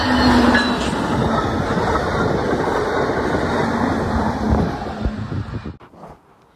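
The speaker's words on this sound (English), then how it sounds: "Starting off our day, we see Amtrak 334 in the snow." An Amtrak Hiawatha passenger train passes in snow with a loud, continuous rumble and clattering wheels close by, holding steady for several seconds before fading away at the end.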